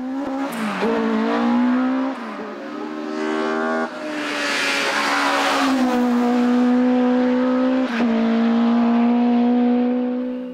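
Racing cars climb the hill course at Hébécrevon, one engine revving hard through the gears with rising and falling pitch and sharp shifts, loud and close before fading slightly.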